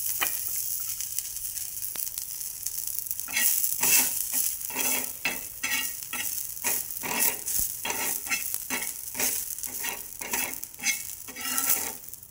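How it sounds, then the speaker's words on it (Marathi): Green chillies, onion and coriander roasting in a pan for a black-masala brinjal dish: steady faint sizzle with repeated scraping stir strokes of a spatula against the pan, no voices. "त्याच्यानंतर कोथिंबीर पण भाजून घ्यायची"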